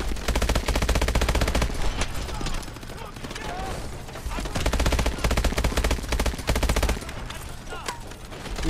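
Dense automatic gunfire in the Call of Duty: Advanced Warfare campaign, with rapid continuous bursts that barely pause, loud and close, mixed with game effects and a voice speaking at times.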